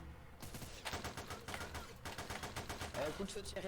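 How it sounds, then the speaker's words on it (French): Rapid bursts of video game gunfire in a police-themed shootout at a housing block, repeated dense shots filling the clip at steady loudness with no clear speech. "Coup de feu tiré à HLM"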